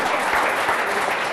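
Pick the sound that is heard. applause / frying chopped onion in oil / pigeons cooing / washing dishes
applause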